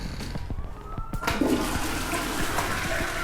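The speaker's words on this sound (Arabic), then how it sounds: "قانون بيقول في سويسرا ما ينفعش تشد السيفون بعد الساعة 10 بالليل" A toilet flushes late at night in a bathroom, a loud rushing gurgle of water that swells and keeps draining steadily throughout, with no talking.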